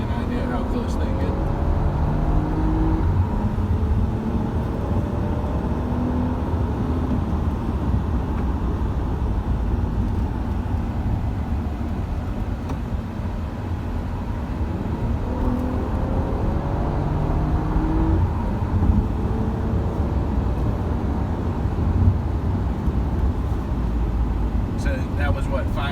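A stock car lapping Martinsville Speedway gives a steady, loud in-car engine drone with rising and falling tones as it accelerates and brakes through the turns, while a driver talks over it.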